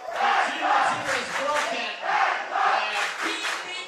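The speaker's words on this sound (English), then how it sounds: "Our large and noisy Danish crowd celebrating these first points of the" A large, noisy Danish crowd roars and chants at an under-19 American football game, a dense continuous wall of voices rising and falling in waves throughout.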